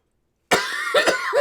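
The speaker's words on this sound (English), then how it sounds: "Oh, coughing fits." After a moment of silence, a person coughs several times in a quick, harsh burst very close to the microphone.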